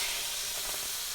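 Pork roast dropped into a pot of hot cooking oil for a Cajun recipe gives a steady, loud, close hiss of sizzling and frying throughout, with no voices.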